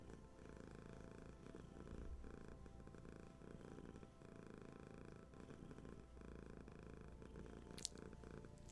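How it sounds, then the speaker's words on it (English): A cat purrs softly and close, a low rhythmic rumble pulsing with each breath in and out, quiet and continuous, with a brief faint click near the end. "You might hear some purring."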